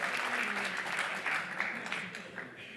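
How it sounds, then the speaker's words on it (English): Applause at a Stanford GSB spring reunion gathering, a dense crowd clapping with a couple of voices mixed in, continuous and fading slightly toward the end. "let's give them a round of applause"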